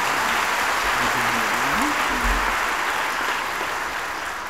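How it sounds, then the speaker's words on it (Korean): A church congregation gives sustained, even applause after a choir and orchestra hymn, with a low voice briefly audible beneath the clapping before it tapers off slightly. "다시 한번 박수로 축복해 주시기"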